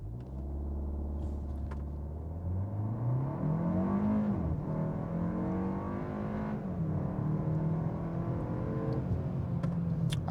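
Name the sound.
2025 Kia K4 GT-Line accelerating 0 to 60 in sport mode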